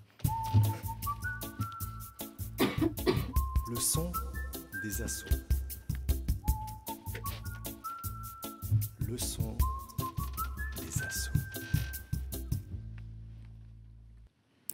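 A short upbeat jingle with a whistled melody over a beat, a voice speaking a brief phrase twice, ending on a sustained chord that fades out.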